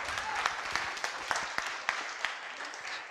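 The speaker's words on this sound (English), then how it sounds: "round of applause for Vlado" An audience at a React Native conference talk claps for the speaker, a brief, moderately loud burst of hands with a few sharper individual claps standing out.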